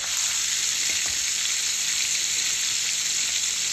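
Tomatoes sizzling in hot oil in a frying pan while cooking hilsa fish, a continuous dense hiss close by and loud, with a faint stir partway through and no talking.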